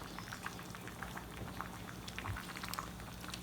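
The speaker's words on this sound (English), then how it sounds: "you're looking for most of the water to boil off." Pasta cooking in a single pan of water bubbles at a steady boil, a continuous soft hiss with scattered small pops and gurgles, close and unbroken, with no voices.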